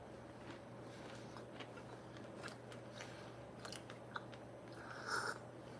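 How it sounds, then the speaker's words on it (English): Someone close by chews a chocolate chip cookie made with couverture chocolate, with soft, steady crunching and biting under a low background hum, a few sharper crumbly crackles throughout, no talk. "let's have a try with the taste of this cookie, this chocolate chip cookie from them"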